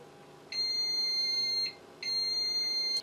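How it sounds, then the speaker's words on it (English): FlashForge Finder 3D printer sounding two steady high electronic beeps during bed leveling, each about a second long with a short gap between, loud and close over a quiet hum. "Unscrew corresponding nut under platform clockwise until hearing a steady beep"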